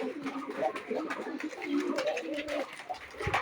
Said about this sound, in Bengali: এই যে পায়রাটা বড় হয়েছে, চারটা বাচ্চা হয়েছে।